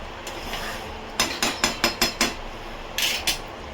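A lid clatters onto a pot of chicken curry in a home kitchen, a quick series of about six metallic clinks and taps close by, followed by a couple more knocks.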